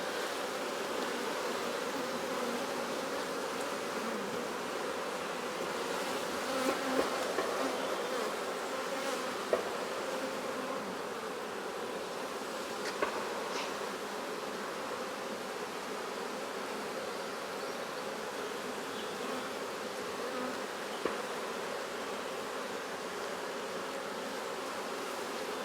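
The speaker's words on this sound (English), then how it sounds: "What a strong hive." A dense, steady hum of honeybees fills the air around a strong hive opened for its first inspection of the year, with a few faint knocks from handling the hive.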